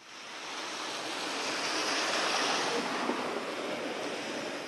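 Strong wind on the coast at Varna roars and buffets continuously, a broad rushing noise blended with surf, loud and close with no voices.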